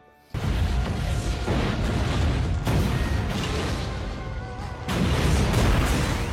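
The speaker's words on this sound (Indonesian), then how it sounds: "Terlihat ledakan yang telah dibuat oleh Frank membuat sebuah logo The Punisher" A loud, sustained roar of explosions from cars blown up in a parking lot rumbles for several seconds, with a fresh surge of blasting near the end.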